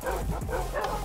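Dogs bark and yip in a Minecraft survival game, a quick burst of several overlapping barks with some whimpering, close and fairly loud over a busy game background.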